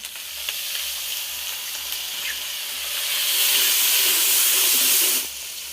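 Water poured into a sizzling pot of khichuri made with Gobindobhog rice, ginger paste already in: a steady broad frying hiss that swells louder and steamier for a few seconds, then drops back abruptly, with faint low bumps beneath.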